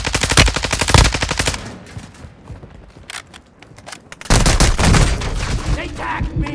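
Rapid automatic gunfire in Warzone 2, loud and close, in dense bursts at the start and again near the end with scattered shots between.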